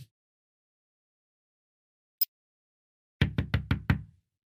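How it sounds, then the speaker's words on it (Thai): A door is knocked on five times in a quick, even run. The knocks are close, loud and distinct, and they follow a stretch of near silence. "เสียงเคาะประตูดังขึ้น พร้อมเปิดออก"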